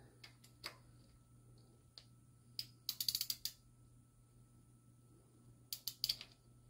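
Quiet clicks from a torque wrench ratcheting a bolt on a Jaguar Land Rover 3.0 V6 AJ126 engine, arriving in short clustered bursts of rapid ticks against a low steady hum.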